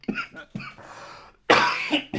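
A person coughs several times in quick bursts, the last one harsher and longer, close and clear with no talking.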